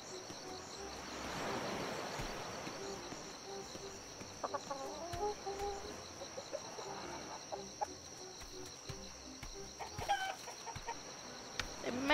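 Chickens clucking in the ATLAS video game, a steady run of soft clucks and short calls over a constant background hum, moderately close and fairly quiet throughout.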